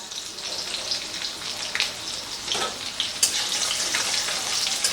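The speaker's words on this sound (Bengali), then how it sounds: "এবারে এর মধ্যে দিয়ে দেব একটুখানি কুচনো আদা, রসুন, কাঁচা লঙ্কা" Chopped ginger, garlic and green chili fry in hot oil for onion rice, giving a dense, continuous crackling hiss that is close and even, with faint stirring bumps underneath.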